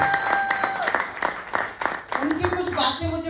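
An audience at a direct selling business event bursts into applause, sharp claps scattered and building while someone speaks over them.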